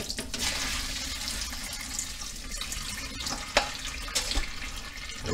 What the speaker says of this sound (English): we're going to bring this pan right here over here, and it doesn't take that long, no more than 10 minutes to run some water in here too